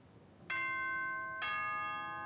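Two bright, ringing chime tones from Danganronpa's nighttime school announcement, a ding-dong pair struck about a second apart, each note sustaining clearly and fading slowly in otherwise quiet surroundings.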